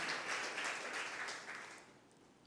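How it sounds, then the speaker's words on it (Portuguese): Congregation applauding in a church, a soft, distant wash of clapping that swells briefly and then thins out toward the end. "Vamos aplaudir o Senhor."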